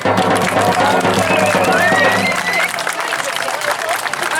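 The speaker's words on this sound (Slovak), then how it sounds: "Silný potlesk pre deti Vinice." Crowd applause at a village fair, the Whitsun market in Slovenská Ľupča, a dense continuous clapping from many people with a voice talking over it.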